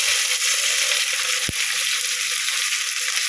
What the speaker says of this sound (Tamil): இப்போ வெங்காயத்தை போடுறேன்